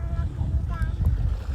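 A boat moves on the water amid a steady low rumble and wind buffeting the microphone, with faint distant voices mixed in throughout.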